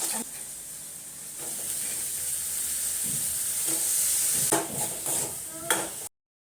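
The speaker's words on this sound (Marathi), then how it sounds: "चला आता दोडक्याची भाजी फोडणी देऊन देते" Hot oil sizzles steadily in a pan with a bright hissing crackle as ridge gourd is tempered, broken by a few clinks of a utensil stirring near the end.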